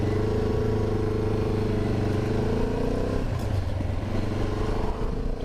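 A 2024 Benelli 702 TRK motorcycle engine idles with a throaty, burbling exhaust note, shifting in pitch partway through, close and fairly loud.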